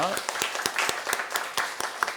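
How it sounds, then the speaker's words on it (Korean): A church congregation at a Sunday service claps for a small vocal ensemble, sharp claps in a quick, fairly regular beat, moderately close, with talking mixed in. "우리 러빙 중창팀에게도 한번 격려와 또 축복의 박수 한번 하면 좋겠습니다."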